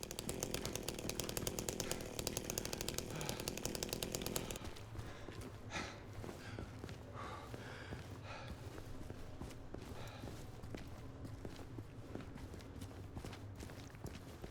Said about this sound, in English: The manliest method of pest control, a chainsaw.